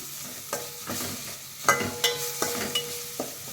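A spice paste with salt and turmeric fries and sizzles steadily in a pan as a spoon stirs it in repeated short scraping strokes, close and moderately loud.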